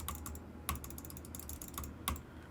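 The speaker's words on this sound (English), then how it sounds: "Mouse clicks." Computer mouse clicks captured by a Wave 1 streaming microphone, a handful of sharp separate clicks, some paired, spaced unevenly over faint background hum with no voices.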